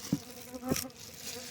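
Faint, brief buzzing of small stingless bees flying nearby during honey harvesting, thin droning hum with a couple of short louder passes.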